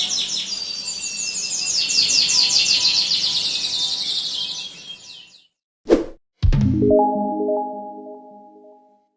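Canary singing, a bright rapid trilling song lasting several seconds, then a sharp thwack and a short falling tonal whistle that fades out.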